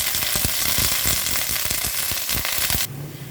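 Ginger paste dropped into a hot frying pan of oil, a loud dense sizzle with spattering crackles close up, abruptly quieting near the end.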